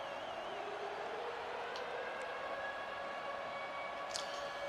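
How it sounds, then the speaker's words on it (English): A stadium siren in the video game College Football 25 wails as a steady, sustained drone over constant crowd noise during a road game, with a brief higher sound near the end. "That siren is so freaking annoying."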